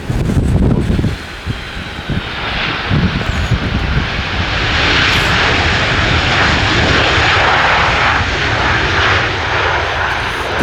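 Jet engines of a Boeing 737 airliner at Edinburgh airport roar loudly and steadily throughout, swelling slightly as the plane passes, with gusty wind buffeting the microphone.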